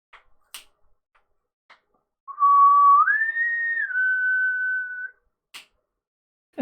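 A loud whistle sounds in the Humankind video game: a single sustained, rising tone held for about three seconds, with a few faint clicks before and after it.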